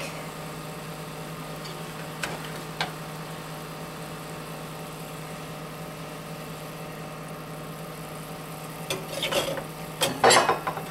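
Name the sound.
salmon cooking in pan for orange ginger salmon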